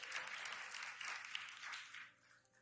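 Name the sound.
applause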